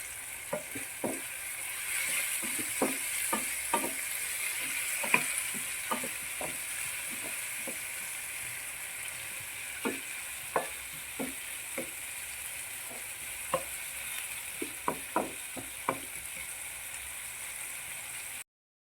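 Shallots sauté in a pan with salt, a continuous soft sizzle under irregular clicks and taps of a spoon stirring against the metal.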